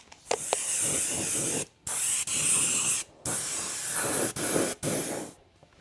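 Neon yellow spray paint misted onto an RC truck body in five or six separate hissing bursts, each one close and loud and cut off by a brief silence.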